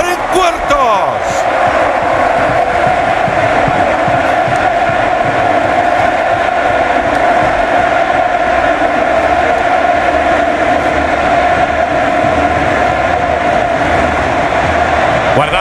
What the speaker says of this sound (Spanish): Guardamos silencio para escuchar la ovación.